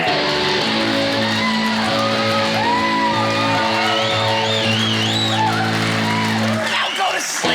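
A stand-up comedian on stage gives a long, loud strained scream, a voice imitating a hungry monster under the bed, holding steady and rough for several seconds before breaking off near the end.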